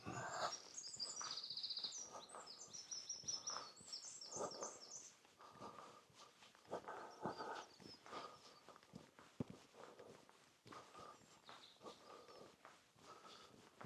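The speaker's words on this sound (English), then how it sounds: "Nice to hear the birds singing." Birds sing with quick high chirps and trills along a countryside walking path on the Viking Way between Wellingore and Westborough. Steady footsteps crunch underneath, and the birdsong is clearest at the start before fading into scattered calls.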